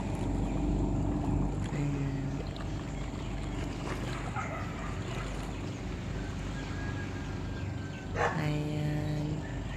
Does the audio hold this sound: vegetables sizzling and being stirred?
no